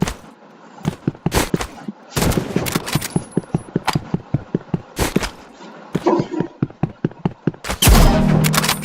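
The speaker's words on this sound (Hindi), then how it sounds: "गाइस शॉटगन लेके पुनः इसको हराते हैं।" Rapid bursts of shotgun fire in the Roblox game Rivals, loud repeated blasts in quick clusters with brief pauses between volleys, ending in a heavier sustained burst.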